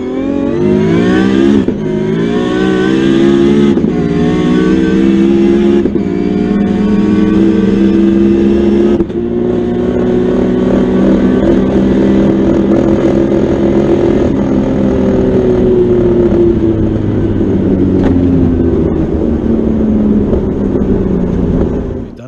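A 1250hp Toyota Supra runs flat out on big boost in fourth gear during a half-mile top-speed run. Its engine roar is loud and close and rises steadily in pitch, with one brief break near the middle before it climbs again.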